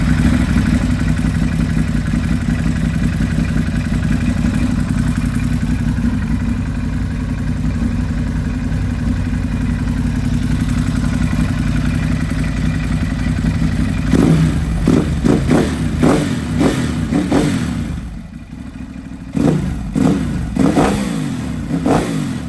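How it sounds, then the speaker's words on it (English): A Ducati Hypermotard 950 SP with a full Termignoni exhaust system idles loudly and steadily up close, then catches a series of sharp throttle blips, the revs rising and falling in quick bursts near the end. "Give it a quick startup for you guys. Let me walk around this side so you can really get the full sound of that Termi full exhaust system."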